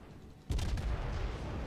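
Battleship Yamato guns firing in a naval video game, one sudden heavy boom after a quiet moment that rolls on with low rumble for over a second.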